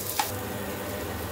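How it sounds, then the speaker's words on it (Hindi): Onions frying in a pan for sambar, a brief steady hiss of sizzling oil with one small tap near the start, close and moderately quiet, no talking. "प्याज को 2-3 मिनट तक फ्राई करना पड़ेगा, गोल्डन ब्राउन होने तक।"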